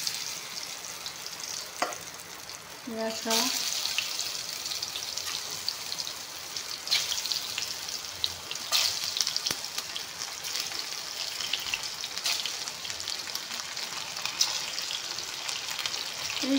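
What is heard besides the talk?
frying pointed gourd in oil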